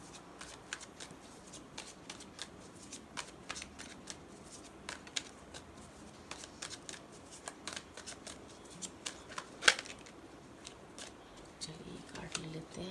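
Tarot cards being shuffled, with a quick, crisp riffle of flicks and snaps running steadily at close range and a sharper slap near the end, plus faint talk in the background.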